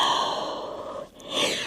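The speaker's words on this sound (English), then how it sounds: "And exhale." A long, soft exhale during a Pilates stretch, breathy and close, fading out, then a short inhaled catch.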